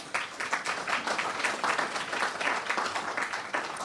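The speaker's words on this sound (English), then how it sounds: "just a big round of applause to everyone" Church congregation applauding together, a steady round of clapping lasting a few seconds at moderate distance, with no voices over it.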